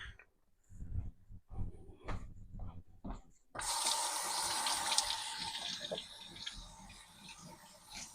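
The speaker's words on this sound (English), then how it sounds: "so we're going to rinse them off real quick" Tap water running over peeled potatoes being rinsed before going into a roasting pan with a chuck roast, a sudden steady hiss of flowing water after several soft handling knocks and taps.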